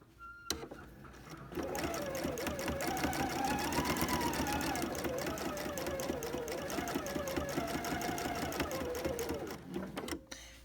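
A sewing machine stitches a diamond quilting design through a quilt, a fast, even mechanical whirr of needle strokes running continuously for about nine seconds between short quiet pauses at each end.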